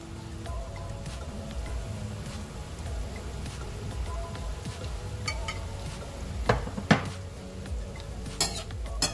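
Mushrooms sizzle and fry in a pan while a utensil stirs them, with scraping and clinking against the metal throughout and a few sharper clatters toward the end.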